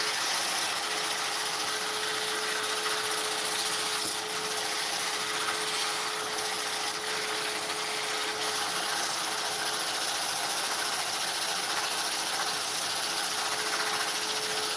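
Coarse sandpaper held against a spinning oak dish on a wood lathe turning under 600 rpm gives a steady, loud broadband hiss over the motor's constant hum, unbroken throughout with no talking.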